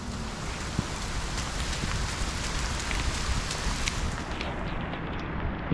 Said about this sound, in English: He's bucketing down.